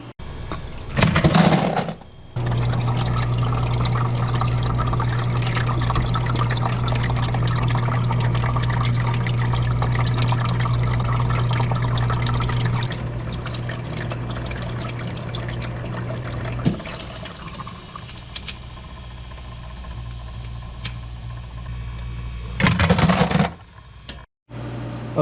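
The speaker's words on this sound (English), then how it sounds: "There goes the waterfall. The compressor is running." A commercial Anbull ice machine runs steadily with its compressor humming while water streams over the evaporator in a continuous, fairly loud flow, then drops to a quieter hum near the end, with brief louder clatters at the start and close.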